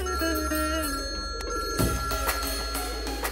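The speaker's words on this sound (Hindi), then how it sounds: "मुझे क्यों फोन कर रही है?" A telephone rings with an incoming call in a Hindi-dubbed film scene, a repeating electronic ring tone sounding steadily and fairly close over a low background hum, with no talk during the ringing.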